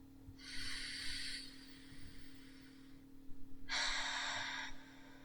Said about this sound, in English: Now we're going to breathe in.